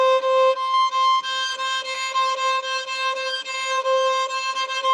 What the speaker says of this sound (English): ponticello is basically playing your bow really close to this bridge, which makes it sound kind of nasally